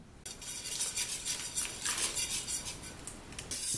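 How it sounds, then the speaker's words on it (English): A utensil stirs chocolate into cake batter in a bowl, a quiet continuous scraping and swishing with soft clinks against the bowl, no talking. "we're going to mix that just until it's well combined again"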